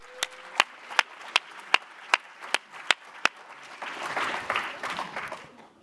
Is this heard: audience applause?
yes